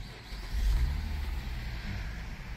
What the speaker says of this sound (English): so now go ahead and start the car